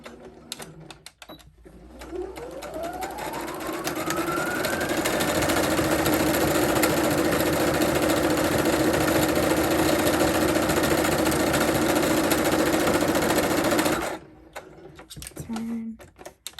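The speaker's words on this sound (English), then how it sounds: "sew your boning down using a straight stitch" Sewing machine straight-stitching boning onto a bridesmaid dress, motor winding up and running steadily at close range for about ten seconds before stopping, with brief handling sounds at the start and end.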